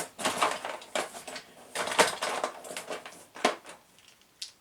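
Original motorcycle parts, destined for a Honda TRX, are pulled out and handled one after another, giving a string of close, loud metallic clinks and clatters with brief pauses and no talk.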